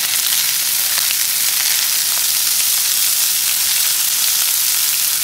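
Eggs sizzling in a frying pan alongside buckwheat, meat and fried onion, cooked on a stove in a remote taiga home in the Polar Urals; a steady, close, crackling sizzle runs throughout with no talk.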